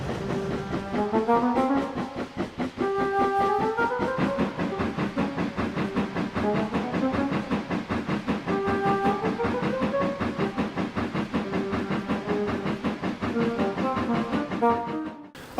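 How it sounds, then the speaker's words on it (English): A steam train rolls past with a rhythmic chuffing and clanking of many wagons, overlaid by repeated tuneful whistle calls that rise and fall, steady and moderately loud throughout. "judging by the sound, there must have been over 20 trucks on that train"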